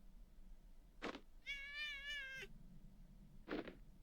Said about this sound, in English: You made the cat cry